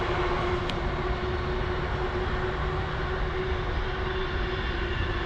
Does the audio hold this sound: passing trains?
yes